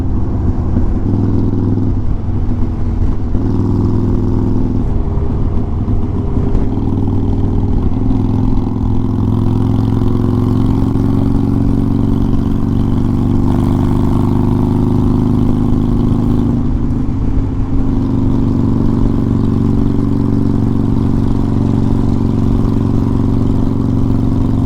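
A motorcycle carrying a passenger on the back hums steadily while riding, its engine droning loud and continuous, with a few brief shifts in pitch as it changes speed.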